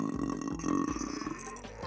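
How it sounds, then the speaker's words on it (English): Comic fart sound effect from The Sims 4: a short, wet, buzzing low blurt that stutters over about two seconds and sits loud and close, with no talk. "Spontaneous farts that can happen at any moment."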